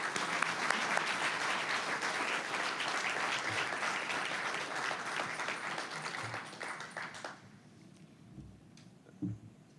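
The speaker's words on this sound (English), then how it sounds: "please give these 4 honorees another round of applause" Audience applause for four honorees at a statesmanship awards ceremony, a dense, steady round of clapping that carries for about seven seconds before fading out, leaving a quiet room with a few faint stray sounds.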